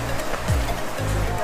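Water from the Kakolat waterfall pours down in a steady, full rushing roar, with a brief voice rising over the constant flow.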